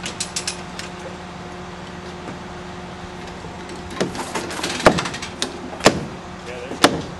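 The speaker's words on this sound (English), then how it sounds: "Tap on it with your hammer now." A hammer taps on a timber beam sitting on a brace housing during construction, a few sharp distinct knocks near the end, spaced about a second apart, over a quiet mechanical background.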